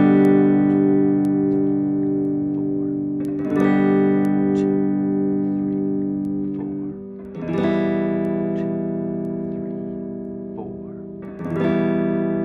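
Guitar strumming chords as whole notes: four sustained chords, each struck once roughly every four seconds and left to ring and fade, clean and close.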